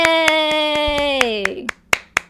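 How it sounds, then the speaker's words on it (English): A single person claps sharply and evenly, about ten claps. A sustained, pitch-bending sung or voiced tone runs under the first half. "I'm clapping for you."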